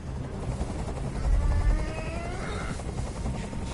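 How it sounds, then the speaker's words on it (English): A helicopter in the video game Detroit: Become Human gives off a steady, thrumming rotor drone overhead that swells slightly midway before levelling off. "Tell that helicopter to get out of here!"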